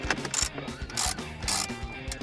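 Hand ratchet clicking as 7mm bolts are backed out from the top of a Ford F-150 dashboard during a screen install, in several short, close bursts of metallic clicks with brief pauses between.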